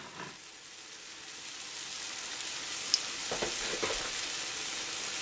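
Pancakes fry in a pan with a steady, soft sizzle and crackle throughout, a faint tap near the middle and slightly louder spitting toward the end.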